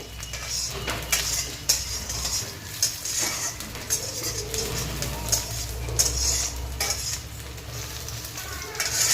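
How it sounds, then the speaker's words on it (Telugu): Onions and green chillies fry in a pan for Rayalaseema-style chicken fry, giving a continuous close sizzle punctuated by repeated clinks and scrapes of a spatula against the pan. "ఆనియన్స్ పచ్చిమిర్చి ఇలా ఫ్రై చేసుకోవాలి"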